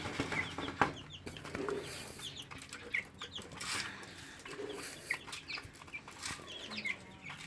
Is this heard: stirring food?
no